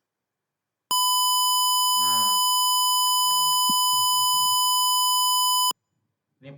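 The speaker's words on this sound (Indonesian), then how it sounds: "ada suara indikator pada buzzernya" Electronic temperature alarm buzzer on a measurement circuit project, triggered once the reading passes 50 degrees alongside an LED: one steady, loud continuous beep tone lasting several seconds while people speak over it.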